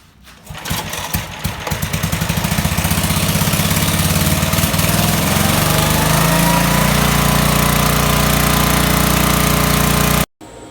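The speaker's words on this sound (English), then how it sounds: "So we're going to fire that up and we'll show you that the furnace runs." A 3000 watt portable generator cranks to life, then settles into a loud, steady engine drone that runs continuously at close range before cutting off abruptly near the end.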